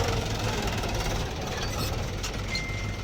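A Mahindra 275 tractor engine runs steadily nearby, a constant loud low rumble with a rough knocking idle that never lets up across the few seconds.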